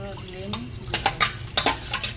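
Water running and dishes clinking during washing up in a home kitchen, with a run of short scrapes and knocks of pots and utensils close by; a voice speaks briefly early on.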